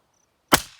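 A single sharp shot from a Ruger LCP II .22 LR pistol firing 40-grain CCI Velocitor over a chronograph at a range, loud and close after a brief silence, with a short decaying tail.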